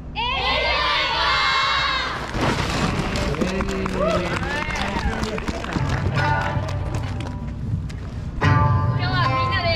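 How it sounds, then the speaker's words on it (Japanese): At a university festival performance by the Osaka City University dance team Shuran, a crowd shouts a chant together in loud, ragged unison that rises into cheering, with a single voice talking just before and just after. "何かと大変なコロナ禍でみんなで叫ぼう、あの言葉、エルジャイボ"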